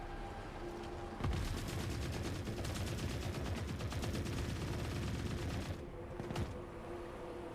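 Rapid gunfire from the video game The Forever Winter crackles in a dense, continuous burst of shots for several seconds, then cuts off, with a couple of isolated shots following over a low background rumble.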